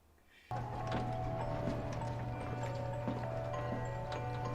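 A merry-go-round mechanism in The Last of Us: Left Behind starts up and keeps running with a steady droning hum and regular light clicking, fairly close and continuous.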